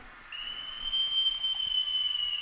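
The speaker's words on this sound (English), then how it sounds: "Departure whistle, guys. That's F4." A Fleischmann DCC sound model of a DB ICE class 411 electric multiple unit sounds a departure whistle, a steady high-pitched tone starting shortly in and holding about two seconds, thin and electronic-sounding over faint background hiss.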